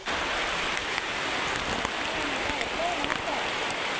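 Steady rain pouring onto a collapsed canopy during an outdoor havan ritual, a dense continuous patter with occasional heavier drips and splashes, with people talking in the background.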